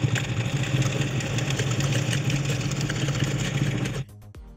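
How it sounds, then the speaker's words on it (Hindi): A domestic sewing machine stitches stretchy hosiery fabric, a fast steady mechanical whirring run that stops abruptly near the end, followed by a few faint clicks. "इस पे ही मैं आपको सिलाई करके बता देती हूँ।"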